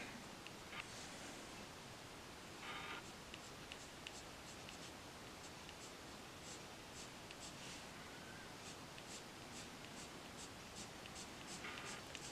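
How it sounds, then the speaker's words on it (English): Pencil on paper making small, quick flicking strokes while shading hair in a drawing, a soft, steady scratching with many brief close-up ticks in a quiet room, no talking. "Same technique where I'm starting with my pencil on the paper and ending with it off the paper."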